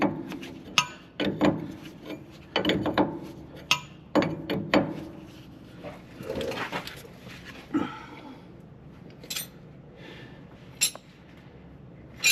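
A new fuel line fitting is tightened on a Peterbilt 379 truck. Sharp metallic clinks and taps come in irregular bursts, close by, with quieter scraping and handling noises between them.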